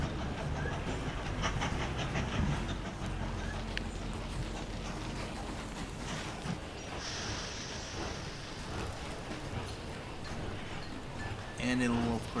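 Trains rumble along rails in the railway-building video game Mashinky, a busy mix of steady rolling noise and faint clacking, with a brief whistle-like tone near the end and a voice talking over it.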